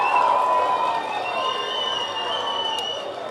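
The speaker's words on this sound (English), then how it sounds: "I want to give a round of applause to all the Democrats" A crowd cheers and claps with a steady, moderately loud roar, some whistle-like tones riding over the noise throughout.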